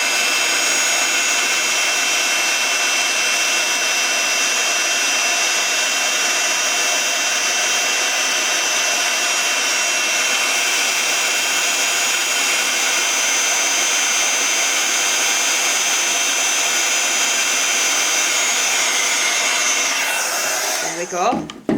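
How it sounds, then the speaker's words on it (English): Handheld heat tool blowing hot air over embossing powder on a handmade Christmas card, a loud, steady whooshing roar held for about twenty seconds before cutting off. "So we're then going to take our heat tool"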